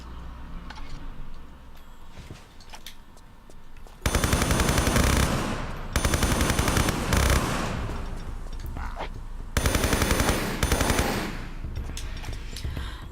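MP5 submachine gun fire in the video game Tomb Raider III Gold: loud rapid automatic bursts in three long stretches, separated by quieter gaps of ambient game sound.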